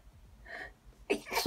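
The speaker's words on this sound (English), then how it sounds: "I'm gonna sneeze." A person gasps in a quick breath and then lets out a loud sneeze into a hand, close and alone.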